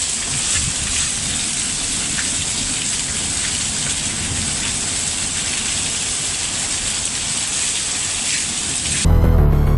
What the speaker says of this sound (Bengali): এই প্রচুর শিলাবৃষ্টি পড়ছে, দেখেন এই শিলাবৃষ্টি প্রচুর, সব সব করে শিলাবৃষ্টি পড়ছে।